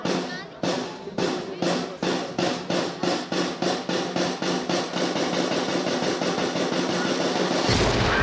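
A rapid, regular series of loud booming cannon blasts fired toward the sea in a ceremony at San Carlos de la Cabaña fortress, Havana, about two per second, each decaying quickly, then blending into a sustained roar near the end.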